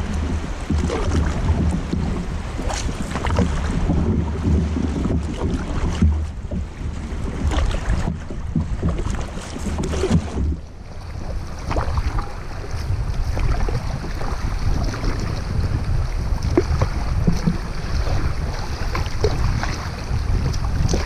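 A canoe paddles through river rapids on the Missinaibi River, with loud continuous rushing water, splashes and wind buffeting the microphone throughout, close and unbroken.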